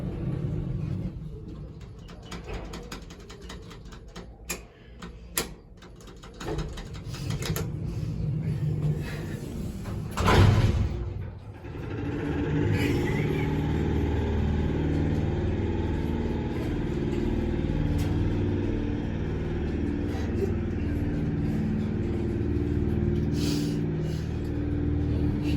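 A grinding Otis elevator motor hums and rumbles continuously in a small cab, low and steady for most of the ride, with a few clicks and a brief louder surge partway through and no talking.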